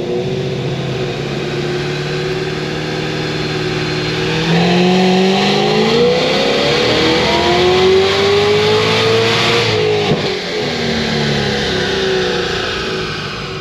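A 1150 hp Cadillac CTS-V engine revs hard during a pull, its loud tone climbing steadily through the gears with a brief dip at a shift, heard close and continuous.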